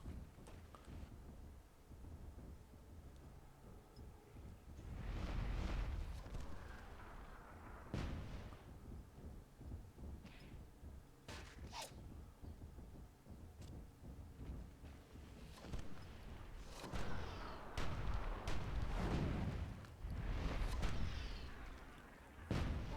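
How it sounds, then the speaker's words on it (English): Bomb explosions in the fantasy strategy game Myth II Soulblighter during a multiplayer tournament match, heavy booming bursts recurring across the stretch with rumbling low end, some clustered together, fairly distant and muffled. "There are bombs away here from Cryptos."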